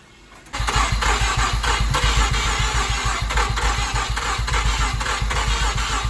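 Mazda RX7 rotary engine with newly installed turbos cranks and catches after half a second, then runs at a loud, lumpy, pulsing idle close by.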